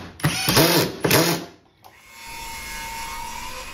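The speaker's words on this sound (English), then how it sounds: "Alpido is demonstrating here superior skill in using a Ryobi" A Ryobi power tool cuts wood for a daybed in two loud, close bursts of sawing, followed after a short pause by a quieter, steady whir.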